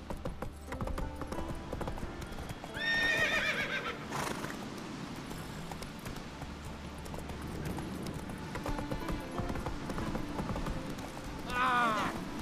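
Horse hooves clip-clop steadily through a game scene in The Witcher 3, with two loud whinnying neighs, one early and one near the end, over faint background ambience.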